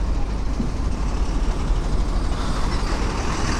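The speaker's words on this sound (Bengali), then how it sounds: "বন্দে ভারত এক্সপ্রেস এই প্রথম দেখলাম বন্দে ভারত এক্সপ্রেস" A Vande Bharat Express train rushes past, producing a loud, steady, close rumble with broadband rushing noise that holds throughout, with no voices.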